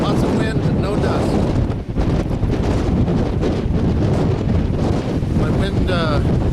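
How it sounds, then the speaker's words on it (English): Strong desert wind buffets a microphone in the Ocotillo Desert, a loud, continuous roar with gusty low rumble throughout and no clear pauses. "I mean, lots of wind and no dust."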